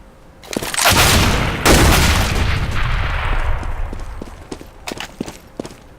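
A frag grenade goes off in a Counter-Strike match, a loud booming blast that decays into a long rumbling tail, followed by scattered footsteps and sharp taps.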